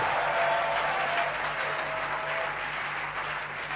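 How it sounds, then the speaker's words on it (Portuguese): A church congregation at a sermon by Pastor Chris Oyakhilome applauds in an even, sustained wash of clapping at moderate distance, with no clear voices over it. "aplauda ele de novo"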